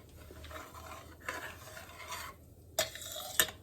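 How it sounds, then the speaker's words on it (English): Brinjal, onion and ladyfinger stirred in a hot pan, soft sizzling under scraping strokes, with a couple of sharper clinks of a utensil against the pan near the end; close, fairly quiet, no talk. "So I'm going to add our brinjal and onion plus the ladyfinger"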